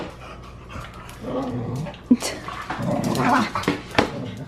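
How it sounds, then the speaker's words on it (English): Dogs growling, panting and scuffling in a kitchen, a close, restless rumble of snarls with sharp yelps or snaps breaking through, with no talk in between. "Y'all just fighting in the kitchen where we're cooking?"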